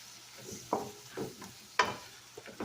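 Hamburger meat for chili browns in a pan with a soft, low sizzle, and a few distinct scrapes and stirring knocks rise above it.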